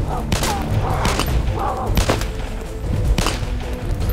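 Mini Uzi gunfire in the video game DayZ, several quick bursts of sharp rapid shots spread across a few seconds, loud and close, with game ambience between them.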